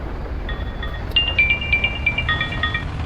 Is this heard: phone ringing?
yes